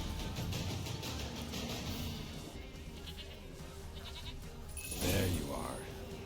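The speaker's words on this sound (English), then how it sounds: "Here, goat." A goat bleating in a video game, a short bleat rising near the end over background game music, with talking in the clip.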